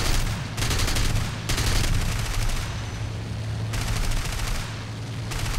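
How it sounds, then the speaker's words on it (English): Sustained machine gun fire from a German plane in War Thunder, loud rattling bursts over a steady engine drone, with short gaps between volleys. "Now we're on to machine guns."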